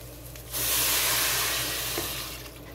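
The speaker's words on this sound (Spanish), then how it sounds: "Ahora le ponemos el agua" Water poured into a pot of chicken that has been frying with consommé and salt, a sudden loud rushing sizzle starting just after half a second and holding steady before easing slightly.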